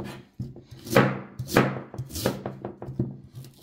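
A knife chops a whole cabbage on a board for pickling, in quick, uneven strokes, each landing with a crisp thunk, close and fairly loud.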